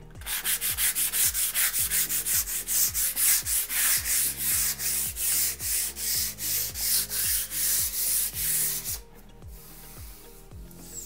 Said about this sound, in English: I'm just gonna use this 400 grit sandpaper to kind of smooth out in between coats